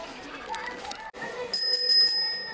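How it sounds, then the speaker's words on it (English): Bicycle bell in a Korean dollar store, a bright metallic ring repeated several times in quick succession, close and loud, following some background chatter. "What is that? A bicycle bell?"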